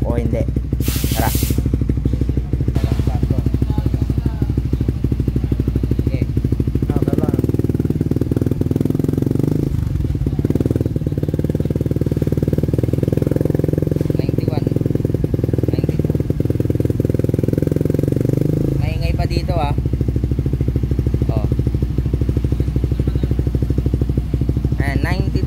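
A motorcycle with its stock exhaust pipe revs in a shop during a decibel test, a loud continuous engine drone that swells into a harder rev through the middle stretch, with a brief spoken word near the start.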